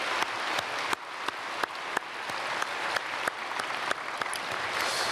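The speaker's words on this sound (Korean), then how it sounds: "귀한 찬양 감사드리고 박수로 축복하겠습니다" A church congregation applauds the choir's hymn during a Sunday service, a sustained crowd clapping with a few sharp, louder claps standing out at irregular moments over the dense steady patter.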